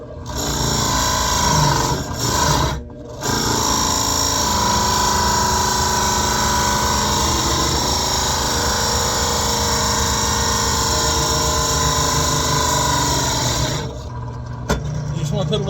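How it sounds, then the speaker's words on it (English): A power drill with its bit biting into the end grain of a reclaimed barn wood 4x4, a loud, steady grinding whir that runs continuously for most of the clip after a couple of short stops near the start. "You are drilling into end grain, so it's not going to be like super easy, and it will feel like your bit is bogging down."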